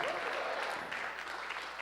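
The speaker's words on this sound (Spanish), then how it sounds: "Dele palmas al Señor, hermano, a su nombre." A church congregation claps steadily together for a couple of seconds, a dense and continuous wash of applause heard from some distance, with no voices standing out above it.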